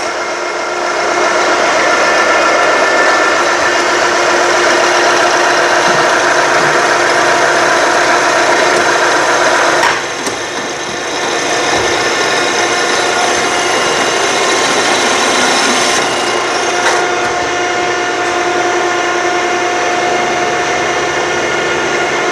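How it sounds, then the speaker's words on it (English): A factory machine cuts threads on spring compressor parts with a loud, steady grinding whir, briefly dipping around the middle before resuming its continuous metallic drone. "that entire piece is going to pull back and then cut more threads right over here"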